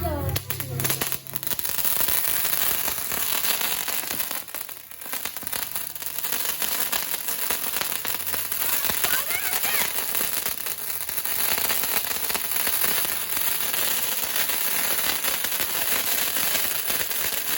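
Firecrackers burst loudly and continuously at a Christmas celebration, a dense, sustained crackle of rapid pops close by, with voices talking underneath.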